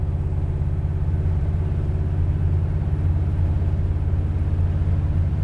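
Steady low engine rumble from a 1969 Plymouth Road Runner with a 512 Hemi, cruising in fourth gear, heard from inside the car; the drone is loud and even throughout with no speech.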